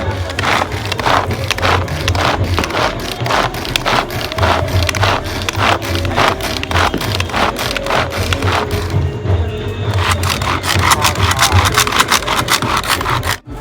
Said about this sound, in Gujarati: હવે આપણે આ ડુંગળી જે મોટી મોટી કાપી એનો ક્રશ કરવાનો હતો એનો ક્રશ કરી નાખશું